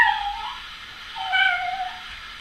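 A person imitates a cat's meow with their voice, producing two short, high, wavering mewing calls separated by a brief pause, close and fairly clear.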